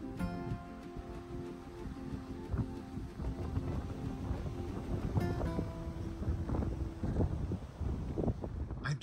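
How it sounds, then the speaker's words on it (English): Strong wind buffets the microphone in gusts on a cruise ship deck, with boat and sea noise underneath and occasional faint voices. "It is quite windy."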